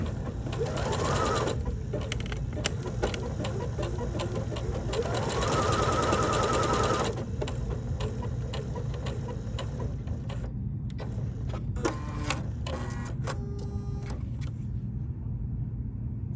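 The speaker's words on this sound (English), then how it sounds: "So I'm going to use a little eyelet stitch on this machine to make some vent holes" A domestic sewing machine stitches an eyelet on a scrap of fabric, its motor whirring steadily in bursts with short pauses and faint mechanical clicks between runs, close and clear.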